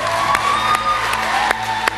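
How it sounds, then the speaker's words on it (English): A studio audience at an RTE You're a Star results show claps and cheers loudly and continuously, with whoops and shouts scattered through the sustained applause. "I think he deserves another round of applause."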